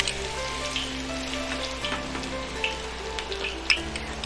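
Garlic sizzles in hot vegetable oil in a wok, a close, steady frying hiss with a low hum beneath and a few small crackles and pops.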